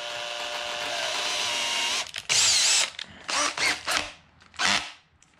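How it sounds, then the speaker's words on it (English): A power drill drilling a 5/64 pilot hole into a stripped screw on an Arrma Outcast 8S chassis runs steadily at first, then in a series of short, close bursts as the trigger is pulsed on and off. "Put the drill motor on drill."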